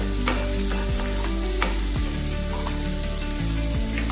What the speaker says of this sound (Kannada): ಈಗ ನೀರುಳ್ಳಿ ಕೊಚ್ಚಿ ಇಟ್ಕೊಂಡಿರುವಂಥದ್ದು ಇದನ್ನು ಹಾಕಿ ಫ್ರೈ ಮಾಡಬೇಕು